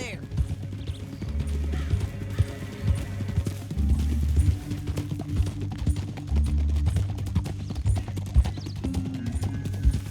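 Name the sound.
horse hooves clip-clopping in the video game Red Dead Redemption II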